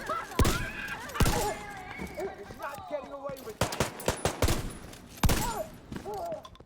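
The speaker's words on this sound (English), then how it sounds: "here to shoot you in the head with my shotgun." Shotgun blasts in The Division 2 come as several sharp, loud cracks spread irregularly across the span, mixed with bursts of other gunfire and a busy game soundscape of squeals and clatter.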